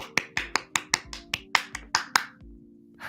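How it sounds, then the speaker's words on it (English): A quick, evenly spaced series of about ten sharp hand claps, close and crisp, each one snapping out and fading fast, ending with a short quiet gap. "That was a clap."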